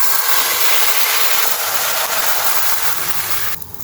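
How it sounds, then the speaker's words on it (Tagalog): Water poured into a hot pan of browned noodles over lowered heat sets off a loud, steady hiss and sizzle that fills the whole span and eases slightly near the end; no talking. "lagyan natin ng tubig."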